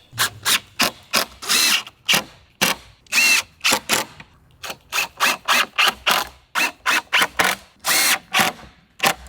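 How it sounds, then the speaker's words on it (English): A power tool cuts steel studs in a rapid run of loud, short bursts with brief gaps between them, some cuts a little longer than others. "I'm gonna cut a bunch of these to 14 inches"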